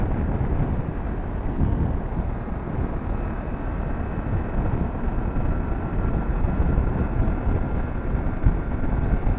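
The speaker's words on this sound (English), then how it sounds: "It's windy." Wind roars steadily over the microphone while riding a BMW F800GS motorcycle, a loud broadband rush with the engine buried beneath it and no talking.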